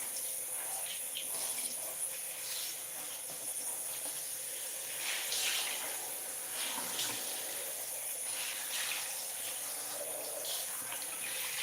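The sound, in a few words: water running from a tap while rinsing something out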